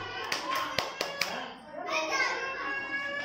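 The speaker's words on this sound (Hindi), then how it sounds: "क्लैपिंग कर लो, ताली बजाओ" A handful of sharp hand claps from children at a family function, landing in a quick uneven burst in the first second or so, with kids' voices chattering around and after them.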